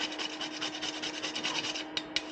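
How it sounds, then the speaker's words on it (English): Cinnamon and nutmeg are grated directly over a pot of squash soup, a quick run of close rasping strokes in a steady rhythm. Two sharp taps follow the grating. "Now the cinnamon and the nutmeg I have to grate. So I'm gonna grate it directly into here."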